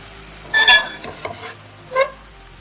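Bitter gourd stir-fried in a pan: a few short, sharp scraping and tossing strokes, one early and one near the end, separated by fainter clinks over a quiet background.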